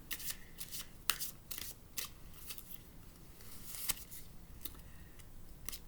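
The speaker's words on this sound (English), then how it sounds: "And now I'm gonna draw a grounding card." Tarot cards are shuffled by hand before one is drawn, a soft, close, riffling patter with small flicks and taps, quiet and with no talk.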